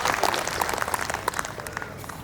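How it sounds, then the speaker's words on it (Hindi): An audience claps in a scattered burst of applause, moderately faint and somewhat distant, lasting only a couple of seconds with no talking over it. "एक बार आप अपने लिए तालियां बजा"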